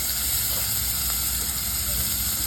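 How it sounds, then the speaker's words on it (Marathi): Finely chopped onion hits hot oil in a pan and sets off a loud, dense, continuous hiss that holds steady without a break. "पॅनमध्ये तेल घालून घेतलं आहे. आता हा बारीक चिरलेला कांदा मी यात घालून घेते आहे."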